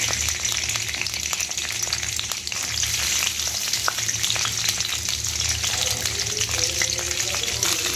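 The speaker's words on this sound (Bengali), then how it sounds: "তেলটা গরম হয়ে গেছে, এবার আমি বরবটি কড়াইগুলো ভেজে নেব" Long beans fry in hot white oil in a kadai, giving a dense, continuous close sizzle with occasional crackles and stirring scrapes.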